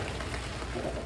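Heavy rain pours steadily onto a sailboat, a Hallberg Rassy 352, in North Carolina, a dense, even hiss of drops drumming on the deck with low rumbling undertones and no talking.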